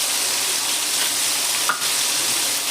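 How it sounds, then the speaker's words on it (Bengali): Tomato with ginger-cumin paste fries in a pan with a steady, loud, dense sizzle and one brief bubbling pop. "প্রথমে টমেটোটাকে একটু ভেজে নেব"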